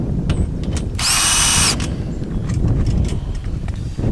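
A cordless power drill drives fasteners into a trampoline enclosure frame, giving one loud, close whirring burst of about half a second amid quiet clicks and handling knocks.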